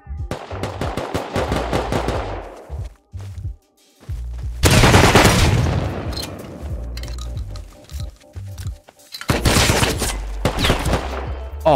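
Gunfire in the survival video game Rust: repeated bursts of rapid automatic shots and loud volleys in three main clusters, with scattered single reports between them, close and loud with no talk over them.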